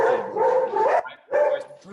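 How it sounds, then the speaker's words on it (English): A pet dog barks twice in quick succession, loud and close, the second bark shorter, with no talk over it. "Oh, our dog."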